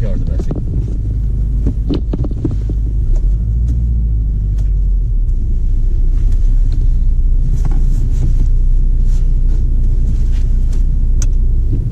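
A car drives on the road during a UK Category B driving test, heard from inside as a steady low engine rumble and road hum with occasional bumps and clicks throughout.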